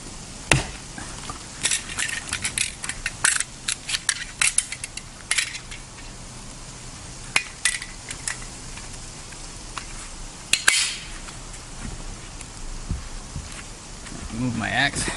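Axe blows chop branches off a standing tree at a bushcraft shelter site, sharp irregular cracks spaced a second or two apart, some close and loud, others lighter, with brief pauses between strikes.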